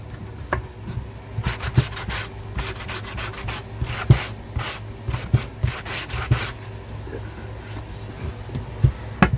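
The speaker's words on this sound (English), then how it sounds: "I'm going to take a sanding block." Repeated rubbing strokes of a sanding block against wood, a steady scratchy back-and-forth at close range with irregular louder passes.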